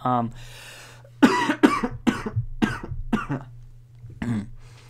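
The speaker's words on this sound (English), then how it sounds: "Sorry, I'm coughing." Several short, sharp coughs come in a loose burst, close to the microphone, after a brief bit of speech at the start.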